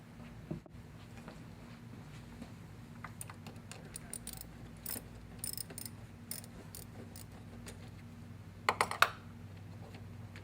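A battery terminal is removed and hose clamps are loosened on a 2005-2009 Mustang GT. Faint clicks and ratcheting taps come in short groups over a quiet hum, ending in a brief cluster of louder clicks.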